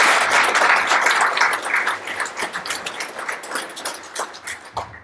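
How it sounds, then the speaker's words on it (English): Audience applause at a trucking industry event, a burst of dense clapping from a crowd that starts strong and gradually thins out over a few seconds. "So now applaud for them."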